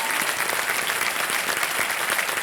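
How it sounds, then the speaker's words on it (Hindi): Studio audience on a television quiz show breaks into steady, dense applause, loud and sustained with no pauses, filling the room. "तालियां बज जाए अनुजा चौहान जी के लिए"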